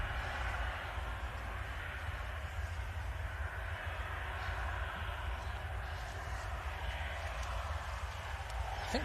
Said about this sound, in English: Do get a very nice view of these aircraft taxiing out as they come out straight towards us.